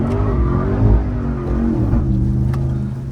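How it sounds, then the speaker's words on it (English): A 700HP drift truck spins its wheels in fourth gear on a mountain road, the engine roaring close and loud with a wavering pitch that surges and then eases. "It's 4th gear wheel spin."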